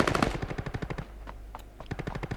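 Rapid bursts of automatic gunfire crackle in a shooting video game, a fast rattling volley, a brief lull with a couple of single shots, then another burst.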